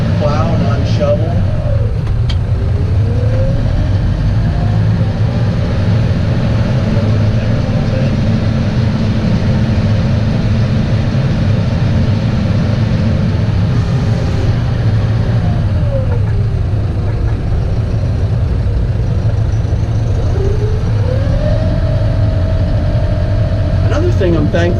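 A steady mid-pitched tractor engine drones continuously while plowing snow, rising and falling slightly in pitch as it works, close and loud throughout.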